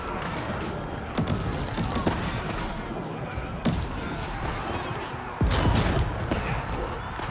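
Age of Empires 4 battle as bombards and hand cannoneers exchange fire, with a dense clatter of rapid gunshots and heavier booming cannon blasts through a constant din, louder bursts near the end.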